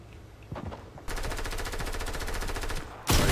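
Rapid gunfire in Fortnite, a dense, steady stream of close, loud shots lasting a couple of seconds, followed by a sudden louder blast at the end.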